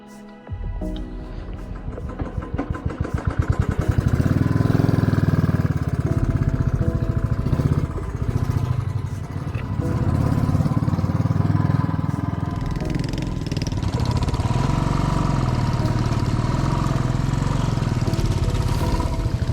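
A motorcycle climbs an uphill gravel track in rural Nagaland, its engine starting up and then droning loud and steady with shifting revs and rough ground noise for most of the run.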